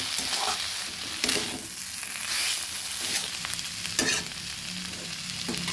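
Banana flower cutlet filling being stirred in a frying pan with garam masala, giving continuous close sizzling and frying with repeated scraping strokes of a spatula, with no voices.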